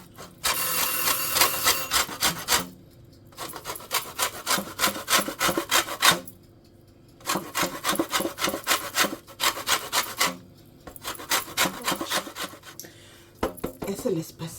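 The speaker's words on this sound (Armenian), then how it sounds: "Եկեք կիտրոնի քերուկ էսպես ուղղակի մի փոքր դիզայնի համար" Lemon zest is grated over a homemade dessert, giving loud, close rasping strokes in several rhythmic bursts separated by short pauses.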